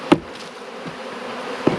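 Swarm of honeybees spilling from a swarm trap, a steady close buzzing hum of many wings with a couple of sharp knocks.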